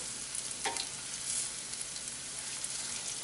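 Lauki koftas sizzle in oil over a low flame, a soft continuous frying hiss with a brief clink partway through.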